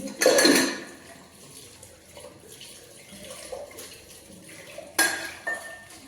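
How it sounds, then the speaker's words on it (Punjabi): Dishes are washed under a running tap in a home kitchen. There is a loud clatter of pots and utensils at the start, then a soft run of water with small clinks, and a second sharp clatter near the end. "ਭਾਂਡੇ ਧੋ ਲਈਏ"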